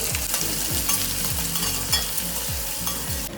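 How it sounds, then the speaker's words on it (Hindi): Onions and capsicum fry in a kadhai with cumin, bay leaf and curry leaves, a constant close sizzle with rhythmic scraping stir strokes roughly every half second and no talking. "तो कढ़ाई में पहले जीरा, तेज़पत्ता डालकर करी पत्ता डाली, फिर कैप्सिकम और थोड़ी देर बाद सारे प्याज भी डाल दी।"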